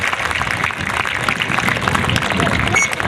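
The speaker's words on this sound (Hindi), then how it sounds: "बहुत ही शानदार, तालियां बजाकर सभी भैया।" An audience at a Republic Day school program applauds a human pyramid display, dense continuous clapping filling the hall with some voices mixed in.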